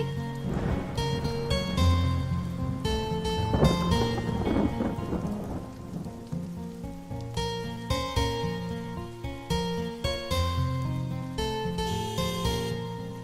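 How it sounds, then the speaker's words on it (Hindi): Heavy monsoon rain pours steadily in a 2004 Hindi thriller set in Mumbai, with rumbling thunder. The storm sits under prominent orchestral music throughout. "बॉम्बे की बारिश नहीं है ये,"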